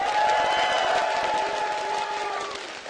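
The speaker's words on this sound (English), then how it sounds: "let's give them a cheer." An esports arena crowd cheers and roars steadily for a few seconds, a dense wash of voices with a tonal hum running through it, gradually easing toward the end.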